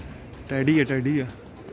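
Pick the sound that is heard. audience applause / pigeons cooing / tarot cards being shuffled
pigeons cooing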